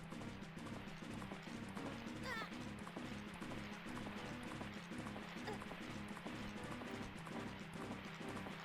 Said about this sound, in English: Well, now he's got a horse.